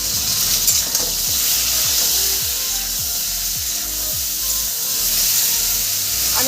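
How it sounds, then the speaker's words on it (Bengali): Okra fries in a pan with salt and turmeric, a loud, steady close sizzle under repeated rhythmic scraping and rubbing strokes of a wooden spatula stirring the pieces. "ভেন্ডির মতো আমি সামান্য লবণ আর সামান্য হলুদ দিয়ে ভেজে নেব"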